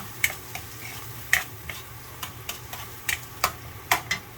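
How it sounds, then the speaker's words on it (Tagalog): Onions and a chili fry in a pan with a soft, steady sizzle. Occasional sharp clicks and scrapes of stirring come through at close range, and no one speaks. "Ayan, lagay na natin ang sibuyas. Lalagyan ko itong siling isa para maluto."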